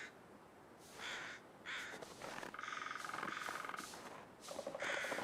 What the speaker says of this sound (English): I always love the woodpecker sound.